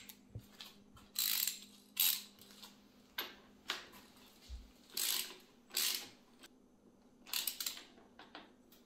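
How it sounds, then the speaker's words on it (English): A ratchet clicks in repeated short bursts while a motorcycle front wheel is mounted, tightened down and torqued, with brief pauses between strokes, close and distinct over a low steady hum. "tighten down and torque."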